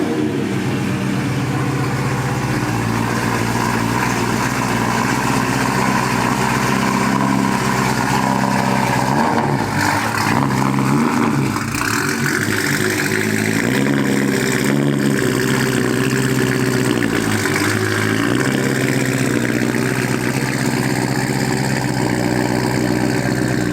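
A BMW M3 E92 pulls out and revs, its engine giving a continuous deep rumble that rises and falls with throttle, close and loud throughout.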